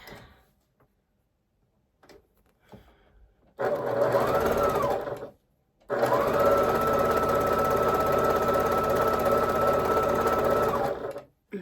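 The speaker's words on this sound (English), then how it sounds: "I'm sewing everything with a scant 1/4 of an inch" A sewing machine stitches a quilt strip set with a scant quarter-inch seam, running loud and close in two sustained bursts after quiet fabric handling, with a brief pause between them.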